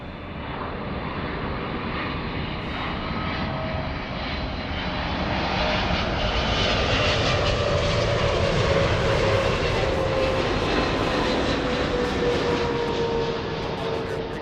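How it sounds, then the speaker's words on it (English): An airliner landing at LAX, with a loud continuous jet engine roar that swells and holds as it touches down, plus a rising whine and faint background voices. "Nice touchdown for that one."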